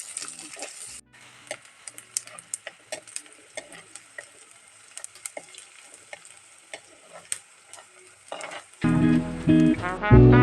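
Sliced onions fry in hot oil toward golden, giving a soft close sizzle broken by frequent spoon clicks against the pan, before a louder burst of sound near the end.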